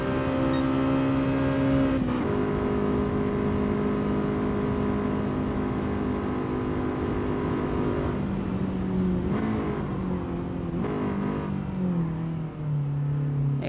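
Inside a racing video game, the Honda Civic Type R's engine drones loudly and continuously, its pitch holding and then dropping in steps as the car shifts gears.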